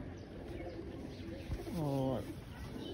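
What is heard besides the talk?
pigeon cooing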